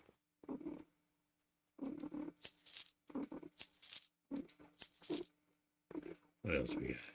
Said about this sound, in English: He's like right here next to the mic, purring loud.